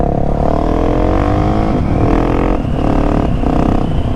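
Husqvarna 701 Supermoto single-cylinder engine shifting up through the gears with a quick shifter and blipper, loud close revs rising in pitch, then quick clean cuts and rising again at each shift.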